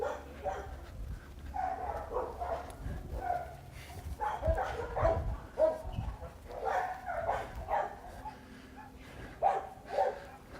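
A dog brought in for a training assessment gives faint, intermittent barks and yips, with a few whimpering sounds, in a quiet room.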